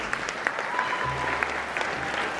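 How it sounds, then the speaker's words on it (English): Steady round of applause from an audience at a school career day event, even and continuous throughout, moderately loud with a faint voice underneath. "Everybody give him another round of applause."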